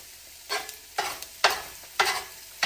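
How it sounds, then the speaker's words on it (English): Onions caramelizing in a pan, with several bursts of sizzling and stirring about half a second apart, close and moderately loud, with no talking. "Now we're just going to let those onions caramelize up."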